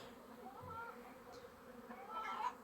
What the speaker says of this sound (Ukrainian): Пасіка гуде.